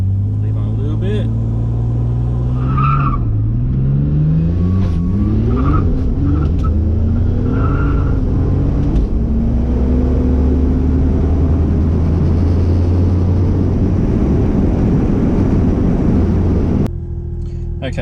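Ford Falcon XR6 Turbo launching hard on a street with a little boost: a loud, close engine roar climbing in pitch through repeated revs and gear pulls, staying heavy and continuous before cutting off sharply near the end.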